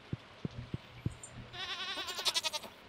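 Goats in the farm game Stardew Valley bleat in a loud, wavering burst after a handful of soft tapping footstep-like knocks, close and clear with no talking.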